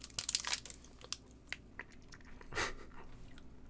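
Crunchy Tokyo Banana Kit Kat, a banana cream puff flavoured wafer bar, is chewed up close, with crisp bites, crackly crunches and a wrapper crinkle, loudest at the start and again near the middle.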